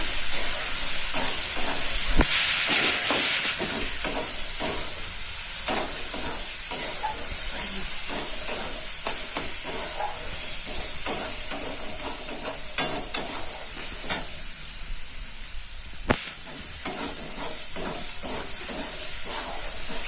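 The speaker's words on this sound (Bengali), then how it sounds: "এই যে নাড়াচাড়া করছি" Turmeric and green chillies are stirred in a hot frying pan, producing a loud continuous hiss of sizzling oil with frequent scraping strokes of a spoon across the pan and no voices.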